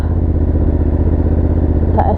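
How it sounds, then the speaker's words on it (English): A Honda Hornet CB750 motorcycle with an aftermarket SC exhaust rumbles steadily with a deep, throaty exhaust note, loud and close, with a brief rise near the end. "that SC exhaust really does sweeten the sound"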